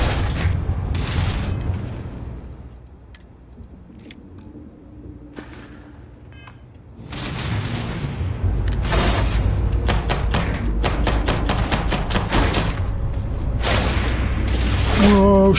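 Video game gunfire in Starfield, rapid bursts of shots and heavy booms in dense volleys, quieter mid-way before resuming loud and continuous in an intense firefight.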